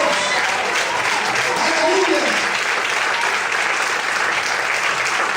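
Steady, dense applause from a large church congregation, continuous and loud throughout without pause.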